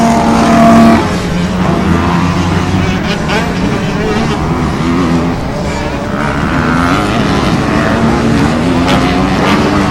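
250 B-Class motocross motorcycles racing at Pilot Mound, engines droning and revving loudly nearby throughout while an announcer commentates over them.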